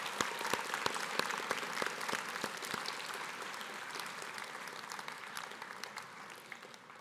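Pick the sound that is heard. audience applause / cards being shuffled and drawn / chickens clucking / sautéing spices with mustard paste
audience applause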